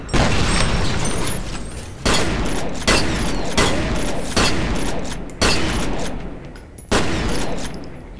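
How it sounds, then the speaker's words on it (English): Sentry guns in F.E.A.R. fire loud sustained bursts, each one breaking off abruptly before the next volley starts, six or seven in a row with hard mechanical clatter. "I do not like sentry guns."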